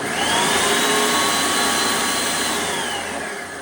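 A loud, steady whirring blender motor runs continuously up close at full speed, blending a cocktail, easing off slightly toward the end. No talking.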